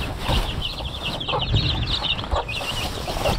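Broiler chicks in a pen cluck and cheep in a steady, busy chorus, with close high chirps running throughout over a low background rumble.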